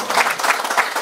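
Audience applause at a Korean political party leadership training session, a short, dense burst of many hands clapping together, loud and close, with no voices.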